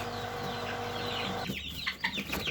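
Chickens on a ranch, including Marans, Pekin and Cochin breeds, cluck nearby in a busy flock, with overlapping calls and short sharp clucks.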